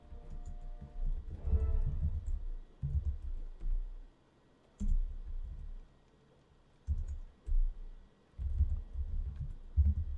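Keys clacking on a computer keyboard in bursts of fast typing, separated by short pauses, close and fairly quiet, with no talking.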